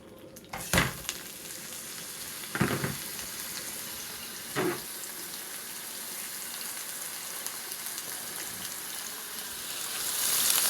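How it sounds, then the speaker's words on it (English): Ground meat browns in a pan with a steady, hissing sizzle that runs throughout, broken by a few clattering stirs or scrapes and no talk. "I don't know if you can hear it sizzling or not, but if you can, now you're just going to brown your meat until fully cooked"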